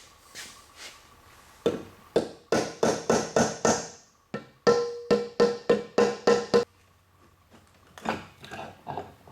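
A plastic hammer taps repeatedly on a C4 automatic transmission during a rebuild, sharp hollow knocks in quick even series of five or six strikes, close and fairly loud, with softer taps toward the end.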